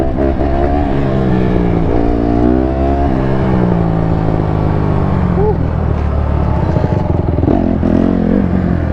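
A group of dirt bikes and quads, including a Honda dirt bike, pulling out together, engines revving and droning loudly up close with overlapping throttle swells and clatter.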